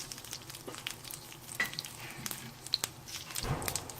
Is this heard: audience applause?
no